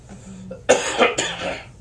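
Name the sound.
cough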